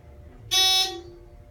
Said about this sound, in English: That's a rather loud buzz.